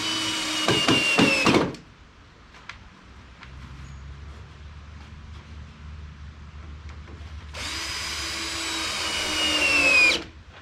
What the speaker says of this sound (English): I drilled pilot holes.